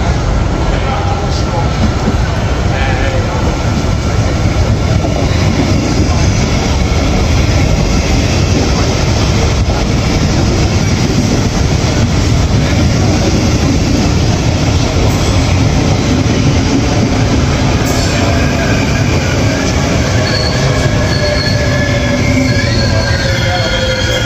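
An Arriva Limburg regional train departs with continuous loud rumble, metallic wheel squeals and rail clatter, filling the whole stretch without pause.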